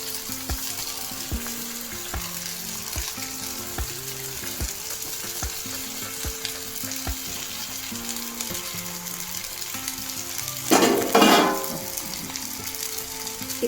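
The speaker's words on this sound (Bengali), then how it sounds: "এবার আমি চাউমিনগুলো দিয়ে দেবো।" Chow mein noodles fry in a pan with a steady close sizzle and scraping stirs, then a sudden louder hissing burst near the end.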